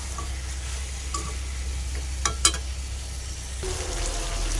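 Chopped bottle gourd sautéing with country chicken in a pan, a continuous close sizzle under steady stirring with a couple of sharp utensil knocks midway.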